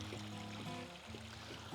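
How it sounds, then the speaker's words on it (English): Water pours from higher ground into a cistern on off-grid land, a steady near trickle and gurgle running without pause. "All the water is directly flowing inside."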